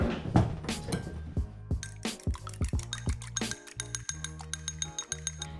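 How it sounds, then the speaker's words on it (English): An egg and vanilla are whisked in a bowl, giving quick, fairly close clinks and taps in an uneven rhythm that speeds into a dense rattle of metal against the bowl. "we're going to whisk it up with our vanilla"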